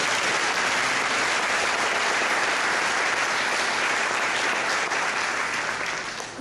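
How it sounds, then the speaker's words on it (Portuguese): A church congregation claps together in a dense, sustained burst of applause that stays loud and even throughout, easing off slightly at the very end. "Você pode aplaudir ao Senhor."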